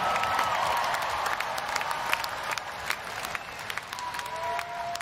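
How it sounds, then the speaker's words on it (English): Concert crowd at a show in San Diego applauding and cheering, a dense, steady wash of clapping and crowd noise that holds throughout with a few louder bursts. "why don't you give yourselves a big round of applause for being such a great fucking crowd"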